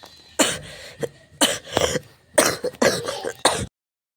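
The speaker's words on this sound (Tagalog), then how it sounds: "Or yung times na sunod-sunod na ang pag-ubo mo," A run of about half a dozen harsh coughs and throat-clearing bursts comes in quick succession nearby, then stops abruptly.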